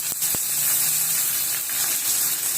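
Cumin, curry leaves, coriander and chillies crackle and sizzle in hot oil for a tempering, a steady close hiss with a couple of sharp pops near the start.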